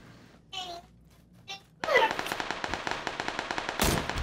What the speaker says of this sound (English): I just threw a grenade.